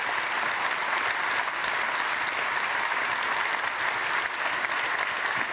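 An audience at an award ceremony claps in continuous, dense applause that stays loud and even throughout the few seconds, with no voices rising above it.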